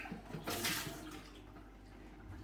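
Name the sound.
water rinsing out a Pinter beer brewing vessel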